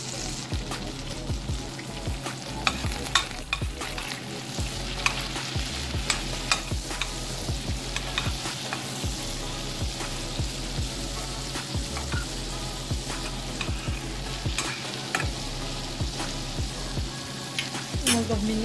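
Garlic sizzles steadily in melted butter and olive oil in a pan, a continuous close frying crackle with occasional stirring clicks of a utensil throughout.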